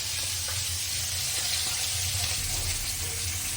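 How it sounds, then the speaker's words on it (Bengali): Oil heating in a wok for a mixed-vegetable curry gives off a steady, even sizzle and faint crackle, close and continuous with no voices over it. "তেলটা আমার গরম হয়ে গেছে"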